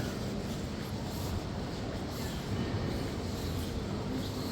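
A train arriving at a station in Norway rumbles steadily, a dense continuous roar of wheels and motion with no clear voices above it.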